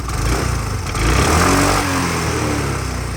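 A Yamaha Cygnus X 125cc scooter engine runs steadily nearby, briefly rising in pitch as it revs, then settling back to a smooth, even, bassy hum.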